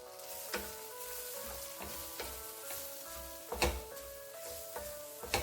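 Chilli, coriander and turmeric powders sizzle in a pan of brinjal and tomato curry, a steady soft frying hiss broken by a few sharp spoon scrapes and clinks as the mixture is stirred.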